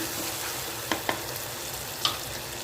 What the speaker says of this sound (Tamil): தக்காளி நல்லா ஸ்மாஷ் ஆகிற அளவு வதங்கியாச்சு.